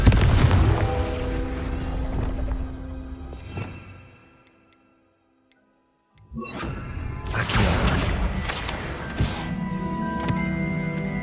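A Confringo fire spell from Hogwarts Legacy explodes in a loud booming blast with rumbling debris, falls to near silence, then another burst of explosive crackle and magical whooshing follows in the game's combat.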